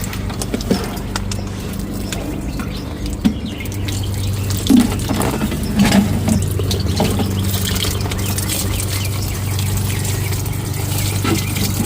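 Dry bean plants in a home garden being watered, a steady hiss and patter of running water that continues for around twelve seconds with no talk.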